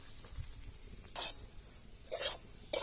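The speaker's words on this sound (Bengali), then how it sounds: "আটাটাকে ভেজে নেব।" Wheat flour being fried in ghee in a pan for homemade gulab jamun, giving quiet scraping stirs: three short, bright bursts of rasping against the pan, separated by soft low background noise.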